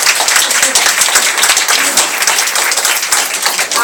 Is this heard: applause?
yes